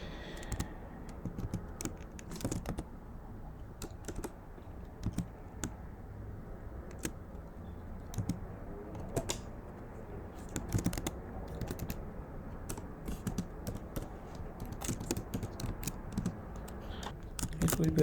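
Quick, irregular clicks of fingers typing code on a computer keyboard, close and fairly quiet, running steadily in bursts with no talking.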